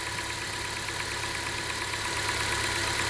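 A 2017 Honda Accord 2.4L engine idles with a brand new Gates serpentine belt fitted, giving a steady, even hum that stays constant and fairly quiet with no talking.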